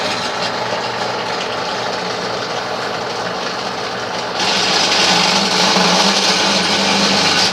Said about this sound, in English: I'm just going to begin cutting through that pilot hole, which is actually a center hole as well,